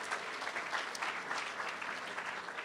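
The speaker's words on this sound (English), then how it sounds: "So if we can give Brendan a round of applause" An outdoor crowd at a ribbon-cutting ceremony for a community center's grand opening gives steady, fairly quiet applause, a continuous patter of many hands at some distance, with no speech over it.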